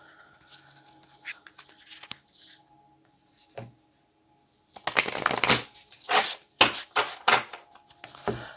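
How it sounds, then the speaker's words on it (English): Oracle cards being shuffled by hand: soft scattered flicks at first, then a louder run of crisp riffling bursts in quick succession, close and alone without talk. "One more shuffle."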